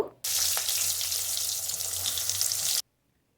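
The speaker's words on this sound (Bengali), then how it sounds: "তেলটা ভালো করে গরম করে নেওয়ার পরে বেগুনগুলো একে একে তেলের মধ্যে দিয়ে দেব" Eggplant pieces hit hot mustard oil and fry in a loud, close, bright sizzle lasting a few seconds, with a low steady hum beneath, then stop abruptly.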